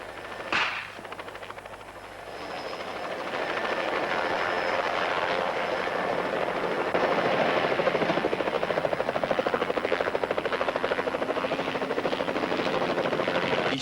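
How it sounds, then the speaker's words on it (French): A helicopter's rotor in a 1982 TV drama thuds steadily and loudly, a dense rapid chopping drone that rises after a brief thump and holds throughout. "Pourquoi avez-vous envoyé un hélicoptère?"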